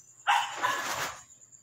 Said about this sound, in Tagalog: Ingay ng mga aso